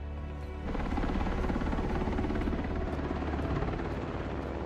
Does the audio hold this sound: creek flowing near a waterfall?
no